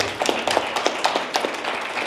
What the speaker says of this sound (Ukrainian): оплески для вас